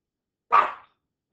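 A single short, loud dog bark sounds nearby in an indoor home setting, one sharp burst that fades quickly into silence.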